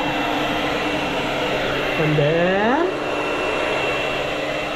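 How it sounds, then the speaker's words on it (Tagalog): A blower dryer runs steadily and loudly while a shih tzu is being dried, a continuous airy roar with a brief whining pitch sweep partway through; a voice speaks briefly over it. "ayaw niya magpa-blower."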